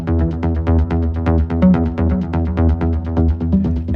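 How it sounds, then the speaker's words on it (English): A synth bass line from the Zensphere V2 plugin pulses in quick, steady repeated low notes with a bright, buzzy edge, loud and alone with no voices. "So we got this bass going on here."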